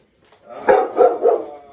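A big puppy gives three quick, close, loud barks in a row, alone without any talking.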